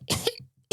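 A voice imitates an old woman coughing, giving one harsh, throaty cough followed by a brief gasp and the start of another cough, close and loud.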